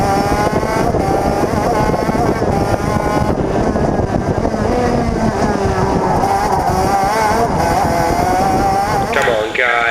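A racing kart engine roars onboard in a loud, continuous, high-revving drone that holds steady throughout the race, with the pitch wavering slightly as the driver pushes to overtake.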